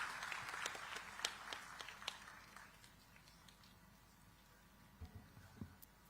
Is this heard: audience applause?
yes